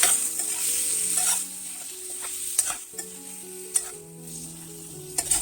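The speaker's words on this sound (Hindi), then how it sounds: "अब इसी पैन में मैं पनीर भी डाल दूंगी" Paneer sizzles and crackles steadily in a pan for kadai paneer. A few sharp clinks and scrapes of stirring cut through, and a soft tonal background runs underneath.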